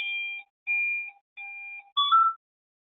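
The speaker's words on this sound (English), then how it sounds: "my device is going into an alarm," A Blackline Safety device sounds an alarm: four loud, clean electronic beeps in an even pattern, the last one rising into a two-tone chirp, with silence between the pulses and nothing else heard.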